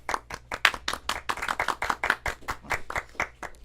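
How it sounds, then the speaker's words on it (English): Close, brisk clapping from a small group, the hand claps coming fast and fairly even for a few seconds. "Let's get a round of applause."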